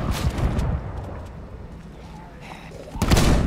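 Gunshots in Project Zomboid, heavy booming reports at the start and a loud blast near the end, separated by a quieter stretch of rumbling background and faint game noise.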